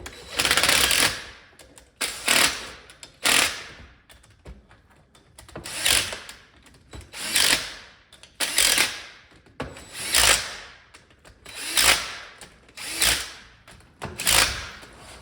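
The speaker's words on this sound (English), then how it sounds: "if you're going to use an impact to snug these up, don't go crazy" An impact wrench snugs bolts on a Dana 30 differential during a re-gear, firing in repeated short hammering bursts about every second and a half with brief pauses between, loud and close, no talk.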